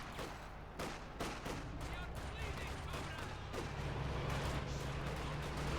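Panther tank barrage and gunfire in the Company of Heroes 2 battle game, a string of sharp explosive cracks over a dense, continuous rumble of combat that builds toward the end.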